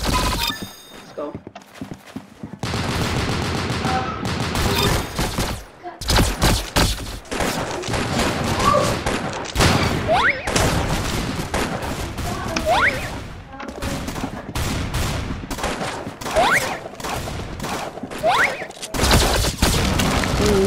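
Constant rapid gunfire and impacts fill a Roblox Arsenal match, loud and close, with short gaps between volleys and a player talking excitedly over the shooting.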